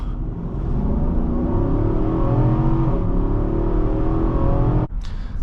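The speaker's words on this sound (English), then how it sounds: "The sound of the V8 is magnificent." A 2023 Nissan Armada Platinum's V8 engine accelerates hard, its deep exhaust roar climbing steadily in pitch for several seconds before cutting off with a gear change.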